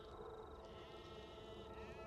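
Sheep bleat softly in the background, a low, wavering call that holds through the whole stretch, faint and distant with no voices over it.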